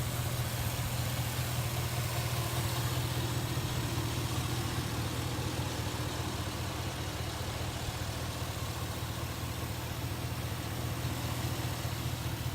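A stock 2007 Chevy Silverado 1500 engine idles at a steady, quiet hum with a low, even throb and no change in pace throughout.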